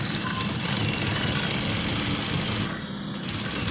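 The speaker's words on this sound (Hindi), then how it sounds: "इसके बुकरम के साथ साथ आपने सिलाई लगा लेनी है।" A sewing machine stitches kurta fabric along the buckram edge, a steady continuous whirr close by that dips briefly near the end before resuming, with no talking.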